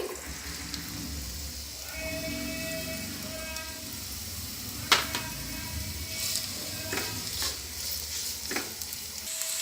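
Two tablespoons of oil with a cup of chopped onion sizzle quietly in a pan, a continuous crackle with occasional stirring scrapes and clinks.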